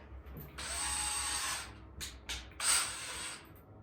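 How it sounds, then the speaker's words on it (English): A power drill bit bores pilot holes for screws in a drywall patch, whirring in two sustained runs with short bursts between them, fairly quiet and close. "So I'm gonna use some of these bits to make a hole, and then I use that hole to put the screws in."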